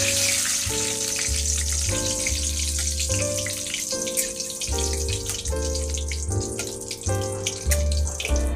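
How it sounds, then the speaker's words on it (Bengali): Whole tempering spices crackle and hiss in hot oil in a pan. A steady frying sizzle runs under louder background music with a stepping melody. "গরম হোক, তারপর ফোড়নটা দিচ্ছি।"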